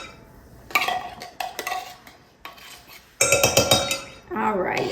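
A metal utensil scraping and clinking against a container while scooping it clean, in uneven bursts of rasping strokes with pauses between and a brief voice near the end.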